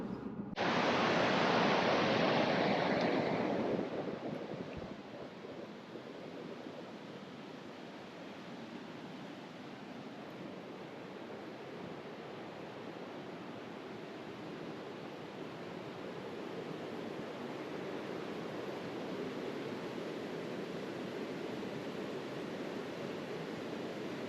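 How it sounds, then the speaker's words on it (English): Flowing river water at Dinky Creek makes a steady broadband rush, loud and full at first, then settling into a constant, softer wash that continues alone. "Ooh, that river looks good."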